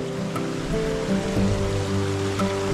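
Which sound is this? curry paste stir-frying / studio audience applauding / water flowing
water flowing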